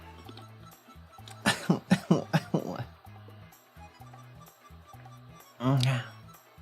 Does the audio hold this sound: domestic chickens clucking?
no